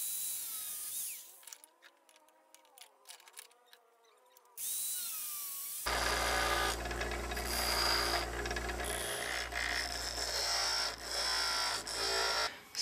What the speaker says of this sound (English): So what I'm going to do is use a grinder to cut off what I don't need